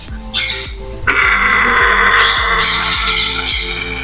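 A pair of African grey parrots in a breeding setup squawks loudly and close, with sharp repeated harsh calls over a busy aviary background of other birds.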